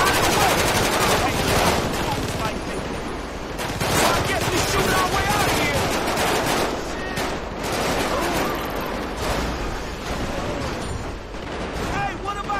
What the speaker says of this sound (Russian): А, по мне почему стреляют?